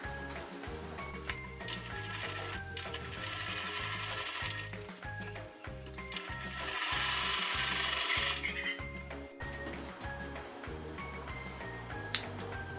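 Sewing machine stitching a narrow double-folded hem on a lined circle skirt, running in short rhythmic bursts with brief pauses between, close and steady with a mechanical whir throughout.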